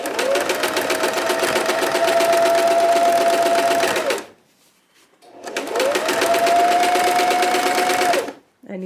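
A sewing machine stitching during free motion quilting on a heart table runner: two long, steady runs of rapid mechanical whirring, each ending in a brief pause.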